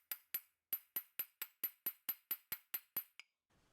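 A shaft is hammered back into an ice auger's gear transmission with a steady run of about thirteen sharp, ringing metallic strikes, evenly paced and close, followed by a faint trailing tap and quiet.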